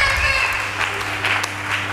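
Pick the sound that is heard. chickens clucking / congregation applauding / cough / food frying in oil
congregation applauding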